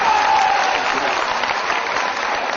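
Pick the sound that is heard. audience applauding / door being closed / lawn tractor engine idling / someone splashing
audience applauding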